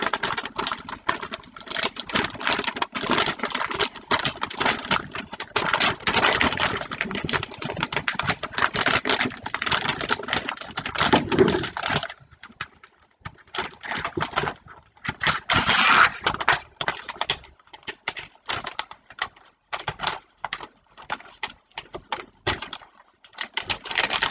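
Wrapping paper crinkling and rustling close by while Christmas presents are wrapped, in irregular bursts of crackle with a pause midway, no talk.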